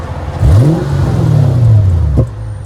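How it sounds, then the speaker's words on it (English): A Mercedes E55 AMG engine revs once, climbing sharply in pitch, holding, then falling away before cutting off abruptly; loud and close. "I'll give it a few revs here real quick so you guys can hear it"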